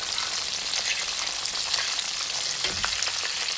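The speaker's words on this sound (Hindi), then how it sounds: "और इन्हें लाइट सा ब्राउन होने तक फ्राई करें।" Chicken pieces frying in ghee give a steady, dense crackling sizzle, close and loud throughout, with a faint stir near the end and no voices.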